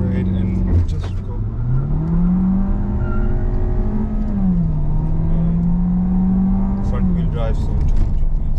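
A 2021 VW T-Roc accelerates hard from a standstill in a 0-100 test, its engine note loud and close inside the cabin, rising in pitch through the gears with a brief dip at each shift, while people talk over it.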